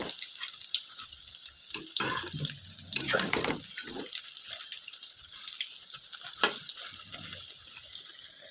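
Coriander leaf pakoras fry in hot oil in a kadai, giving an uneven crackling sizzle with sharp spitting bursts and quieter gaps, close by and with no voices.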